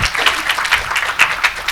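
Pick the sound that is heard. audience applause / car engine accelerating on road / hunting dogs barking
audience applause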